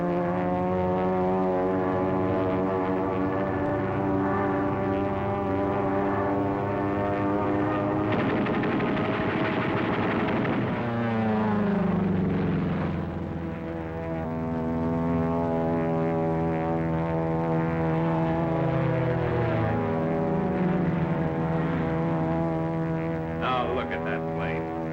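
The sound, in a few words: P-40 propeller airplane flying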